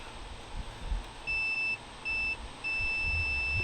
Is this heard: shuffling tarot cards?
no